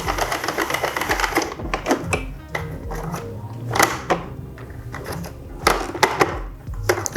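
A Sentro knitting machine is cranked through a row while knitting a simple top, giving a close, steady run of rapid plastic clicks and clacks with a few louder knocks and no talking.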